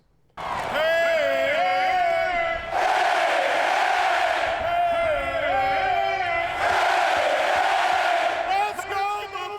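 Buffalo Bills home stadium crowd bellowing a chant song in unison, led by a former Bills player, in loud sustained phrases with rising pitch swoops and short breaks between repetitions.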